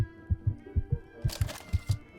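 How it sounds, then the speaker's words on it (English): Heartbeat sound effect from the otome video game Tears of Themis, a steady run of deep, soft lub-dub thumps repeating evenly throughout, with a brighter chime-like shimmer entering midway over a held musical tone. "Did you hear the heartbeat?"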